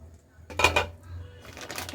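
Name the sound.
putting the lid on a frying pan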